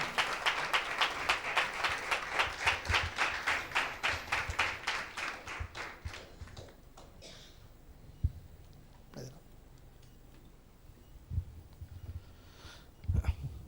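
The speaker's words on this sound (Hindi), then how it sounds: "क्या हम एक जोरदार ताली दें परमेश्वर की महिमा के लिए।" Church congregation applauding for the glory of God during a worship service, a loud burst of rhythmic clapping that fades out after about six seconds, leaving a quiet room with a few scattered knocks.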